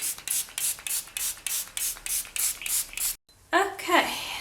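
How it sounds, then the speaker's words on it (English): Rapid bursts of water spray hit a freshly baked polymer clay collar on a stand, about a dozen short hissing pulses in steady rhythm, close and fairly loud, followed by a brief gap and some softer handling noise. "Now I want to start spraying with water to get this to cool down."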